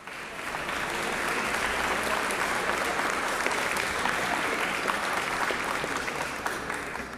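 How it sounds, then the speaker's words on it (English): Warm, sustained applause fills a legislative chamber during a state House session, a dense, even wash of clapping from many hands that swells quickly and holds steady throughout. "let's give them a warm applause."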